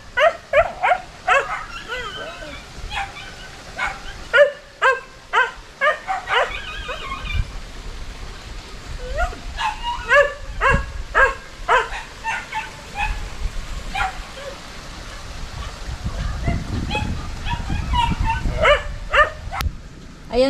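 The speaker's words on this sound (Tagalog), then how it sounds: "Nasa lubong na po ang aming mga aso." Dogs bark and yip repeatedly in irregular bursts, some whimpering mixed in, fairly close, with people talking in the background.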